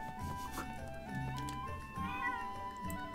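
Cat meowing in Zelda: Echoes of Wisdom, a couple of clear, close meows heard over light game music, with no talk.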